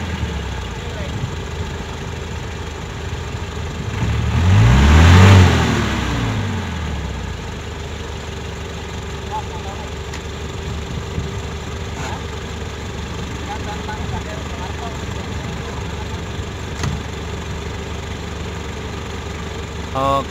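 A car engine idles steadily, then revs up hard in one loud surge around the middle before dropping back to a low idle, with a person talking nearby.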